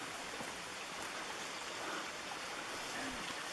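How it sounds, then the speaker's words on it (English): A brook runs along a muddy mountain trail, its water rushing in a continuous, even wash that fills the whole moment, with no other sounds standing out. "right now we're using a brook for the trail."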